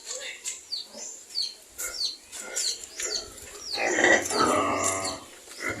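An aging boar pig on a small farm gives a series of short, close grunts in an irregular rhythm, mixed with bird chirps and other animal noises, with some voices in the background.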